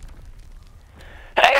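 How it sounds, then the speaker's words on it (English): A single sharp human sneeze at the very end of a short, quiet stretch, sudden and loud, during a Call of Duty WW2 gaming session. "I must sneeze."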